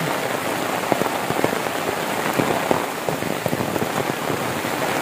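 Heavy rain pours down in a dense, constant roar, with scattered louder drops tapping on a surface nearby.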